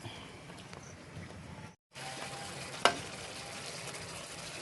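Coconut milk simmering in a pot with a soft steady bubbling sizzle and faint stirring scrapes, one brief gap of silence and a sharp clink partway through.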